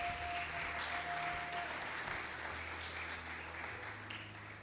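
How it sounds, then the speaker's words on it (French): Church congregation giving a sustained round of applause, a dense, even clatter of many hands filling the room for several seconds before slowly easing off. "Acclamons pour le Seigneur."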